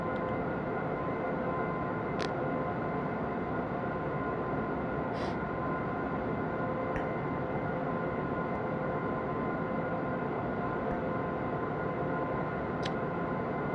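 Freight train on the Veddel southbound route in the game Train Simulator 2014, running at speed with a loud, steady droning rumble and hum, a few faint clicks over the continuous noise.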